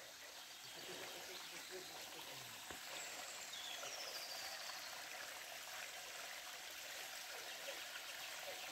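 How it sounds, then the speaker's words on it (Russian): A small river in the Vodyanaya Balka ravine near Sleeping Beauty mountain runs with a steady, continuous broadband rush of flowing water, fairly close and unbroken throughout. "Вот такая речка."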